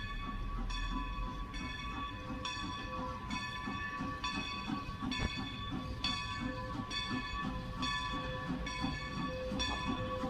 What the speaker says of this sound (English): Train number 500, the Conestoga, is now arriving on track number 2.